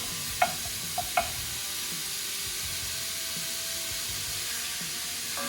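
Meat browns in a cast iron pan over a gas stove, a steady close hiss and sizzle with a few sharp clinks of a stirring utensil early on, then continuous frying with no voices.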